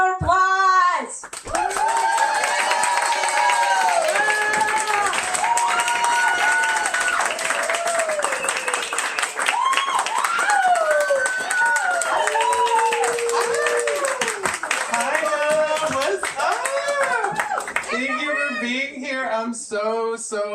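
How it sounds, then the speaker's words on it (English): Sustained applause with whoops and cheers from the audience at a Los Angeles book launch, loud and steady for most of the stretch before fading into voices near the end. "Please, everyone, give a round of applause."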